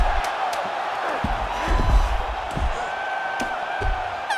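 Arena crowd in the UFC 6 video game during a fight, a continuous mid-level roar with scattered shouts and a few sharp thuds, under intermittent talk.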